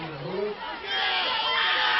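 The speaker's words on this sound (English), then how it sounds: "You can hear the crowd here at Kionka Field getting antsy" High school football crowd at Kionka Field, a distant broad roar of voices that swells and rises in the second half, with a commentator talking over it at first.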